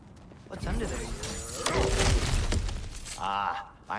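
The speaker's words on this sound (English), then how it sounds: "Ah, back to smashing through things for fun and profit." Cracked ground gets smashed apart in God of War Ragnarök, a heavy crash with shattering debris and rumbling thuds, followed by a brief voice near the end.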